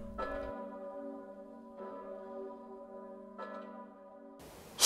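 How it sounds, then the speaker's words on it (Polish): The great Zygmunt bell of Kraków tolling, three slow, deep, resonant strokes spaced about a second and a half apart, each leaving a long humming ring. "Zadzwonił dzwon Zygmunta, w którego dźwięk artysta się wsłuchiwał."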